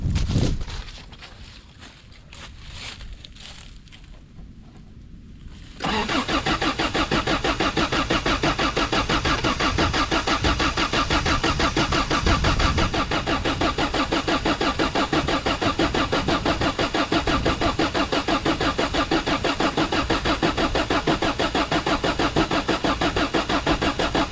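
An old junk car engine is cranked with an Avapow A68 jump box. A few seconds of quieter rumbling give way to a loud, sustained, churning crank that runs nearly twenty seconds, close up with no talk.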